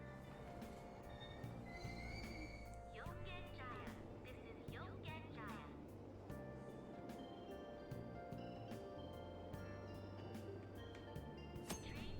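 Subway train in the video game Persona 5 Royal, with rumbling carriages and squealing wheels running steadily throughout at moderate level, while a voice talks over it.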